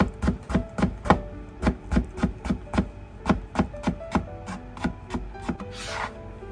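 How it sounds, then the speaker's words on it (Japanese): A knife thinly slices halved eggplant on a cutting board, giving a quick, even series of crisp chopping taps, about two to three per second, close and clear with no talk. "ナスはさ、縦半分に切ってから薄切りにすれば"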